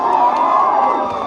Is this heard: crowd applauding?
yes